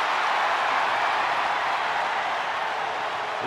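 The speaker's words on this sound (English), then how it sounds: "Listen to this ovation." A dense, even wash of crowd ovation for a women's champion in WWE 2K23, a steady roar of cheering and applause held at constant loudness throughout.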